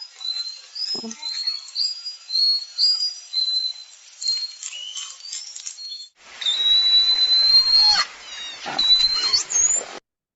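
A series of high, sliding whistles and chirps from orcas, some rising and falling in pitch, interspersed with clicks and short gaps of quiet.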